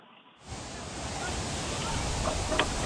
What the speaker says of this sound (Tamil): தற்போது அருவியில் இருந்து தண்ணீர் ஆர்ப்பரித்துக் கொண்டு வரும் அழகை கண்டு ரசிப்பதோடு